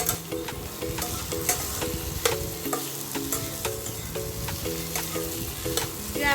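Chopped boiled potato samosa filling with green chili frying in a pan on an induction cooktop, stirred with steady scraping strokes under a continuous close sizzle.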